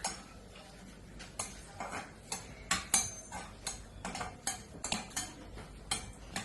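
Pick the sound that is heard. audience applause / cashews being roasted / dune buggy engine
cashews being roasted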